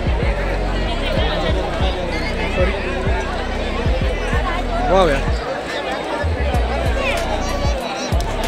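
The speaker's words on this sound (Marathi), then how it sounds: "सर्व भाविक वा प्रचंड गर्दी आहे यार" A huge crowd of devotees packs a temple with a Maharaj's samadhi during Bhogi celebrations, a dense, steady hubbub of many voices and footsteps close around, with someone speaking over the din.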